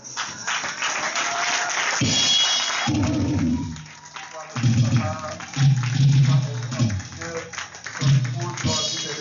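A congregation applauding at a church retirement ceremony, with loud sustained clapping and cheering mixed with a voice speaking over an amplified system, the crowd sound swelling and settling in waves.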